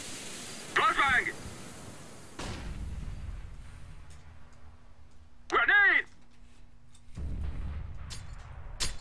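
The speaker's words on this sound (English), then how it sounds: "Flashbang!" A flashbang grenade goes off in Counter-Strike: Global Offensive: a sudden loud blast followed by sustained rumbling noise and a lingering tone, with brief shouted voices before and between.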